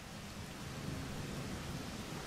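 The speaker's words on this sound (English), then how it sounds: "See, it's still raining." Rain pouring down in Rain World Downpour, a dense, even hiss of steady downpour that runs unbroken throughout, with no voices.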